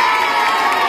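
Children at an Independence Day school event at a Barrackpore high school clap and cheer loudly, a dense, continuous wall of crowd noise close by for under a second.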